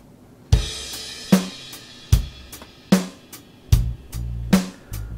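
A dry, unprocessed DI bass guitar line from the EZdrummer 3 Bandmate plays clean plucked notes with distinct attacks and short decays in a steady, sparse rhythm, close and clear with no other instruments or voices.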